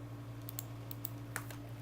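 Computer keyboard keys pressed during 3D modeling work, a few soft quick clicks spread over under two seconds, faint against a steady low hum.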